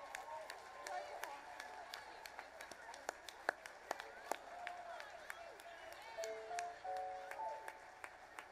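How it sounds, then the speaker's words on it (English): Scattered audience applause with sharp individual claps and some whoops at a live charity stage show, moderately distant in a large hall as performers leave the stage, with faint tonal music under it. "one more round of applause for these amazing acts tonight"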